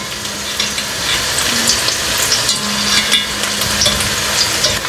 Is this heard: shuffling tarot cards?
no